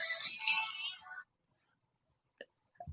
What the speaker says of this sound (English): Oh, hold on. Phone call.